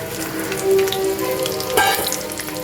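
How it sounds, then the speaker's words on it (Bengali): Chopped vegetables, including ridge gourd, sizzle and crackle in hot cumin-tempered oil, a steady close frying hiss with a few brief clinks, with no speech. "এটা ভেজে নিব আগে।"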